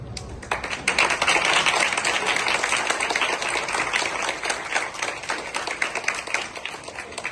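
A crowd claps at an opening ceremony held in memory of a martyr, a dense, bright burst of applause that starts abruptly, stays steady, then gradually thins toward the end.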